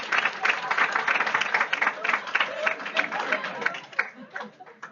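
Students in a lecture hall clap at the end of a urology class, a lively burst of applause with scattered chatter and chuckles that thins out into a few lingering claps.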